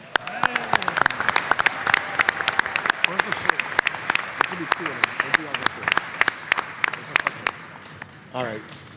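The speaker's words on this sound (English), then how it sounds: "Give them a round of applause." A crowd claps steadily in sharp, dense bursts at a mayor's legislation signing and media event, with voices murmuring underneath throughout.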